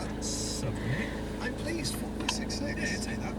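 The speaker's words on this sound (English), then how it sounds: "We are stuck in traffic" Road traffic rumbles around a car stuck in a jam, a continuous low engine and road noise heard from inside the cabin while people talk over it.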